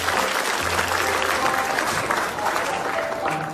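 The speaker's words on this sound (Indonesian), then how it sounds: "tepuk tangan dulu." Studio audience applause fills the whole stretch, a dense steady wash of clapping at close range with a low hum beneath and no clear talk over it.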